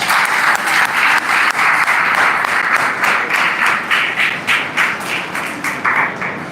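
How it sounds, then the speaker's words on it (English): Audience at an Engineers Day celebration at a technical university applauding, a dense sustained wash of many hands clapping that stays loud throughout and tapers slightly toward the end. "Huge round of applause for, I think, all of you."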